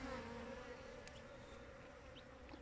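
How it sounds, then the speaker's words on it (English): Honey bees buzz steadily around a hive, a dense continuous drone with a few individual insects zipping close past. "And you can see robber bees, that's what they do."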